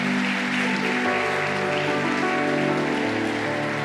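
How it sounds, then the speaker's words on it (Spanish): Inside a church, the congregation applauds in a dense, continuous wash of clapping that fills the space from start to finish, with a sustained musical tone droning underneath. "Antes de orar, yo le daré un aplauso a Dios"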